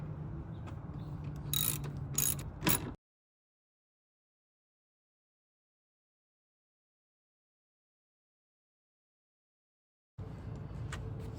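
Plastic-backed tail light fasteners on a Toyota Corolla Cross being snugged down, giving a close burst of quick ratcheting clicks for about three seconds, then silence, with the mechanical ticking resuming briefly near the end.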